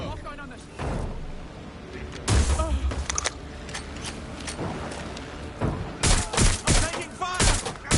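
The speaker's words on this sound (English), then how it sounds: "I'm taking fire!" Gunfire in the video game Watch Dogs Legion bursts out in loud volleys, heaviest near the start and in a rapid cluster toward the end, with people talking over the shooting.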